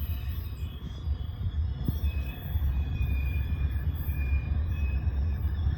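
A heavy rock freight train rolls past with a steady low rumble and grinding wheel noise, continuous and fairly close, with faint metallic squeal tones above.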